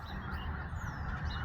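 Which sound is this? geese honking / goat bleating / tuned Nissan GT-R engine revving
geese honking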